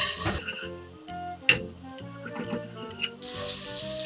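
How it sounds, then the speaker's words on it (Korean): Frozen minced garlic sizzles over medium heat in a hot pan, the crackling hiss fading and then swelling again, with music playing in the background. "똑같이 마늘을 불을 중불까지 올린 상태에서 볶아줄게요"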